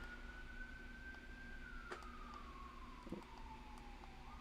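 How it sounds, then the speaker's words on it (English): An emergency vehicle siren wailing outside at a distance, a single slowly falling tone heard faintly indoors for several seconds, with a few small clicks nearby. "I don't normally hear this many sirens."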